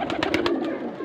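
A China breed pigeon coos several times in quick succession, close and clear, while being handled, over a steady background hum.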